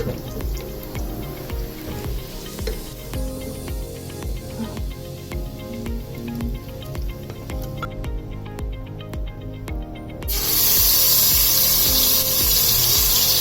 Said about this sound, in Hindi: थोड़ा सा पानी मैंने ऐड कर दिया है ताकि अच्छे से ग्राइंड हो जाएं।